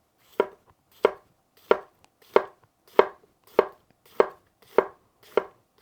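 A Bunka knife push-chopping cabbage on a cutting board, nine sharp, evenly spaced thuds about every half second, close and crisp with quiet gaps between strikes.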